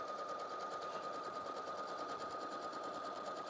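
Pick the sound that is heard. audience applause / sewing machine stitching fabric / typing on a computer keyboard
sewing machine stitching fabric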